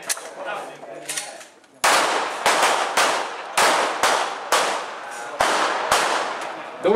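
Police cadets fire pistols at a range until the magazine is empty: about ten loud, sharp shots crack close by in quick, slightly uneven succession, each followed by a short echo, after a quieter start.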